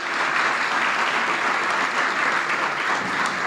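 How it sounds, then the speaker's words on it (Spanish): An audience applauds a seminar's first presenter, and the dense, even clapping of many hands fills the room. It holds at a loud, steady level throughout with no voices over it. "Reiteremos el aplauso, por favor, para nuestro primer expositor,"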